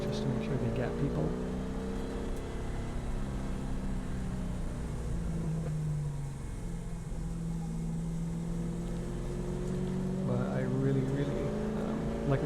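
A GT race car laps the Calabogie track with a continuous droning engine note that rises and falls through gear changes, heard from inside over steady road noise, with someone talking over it.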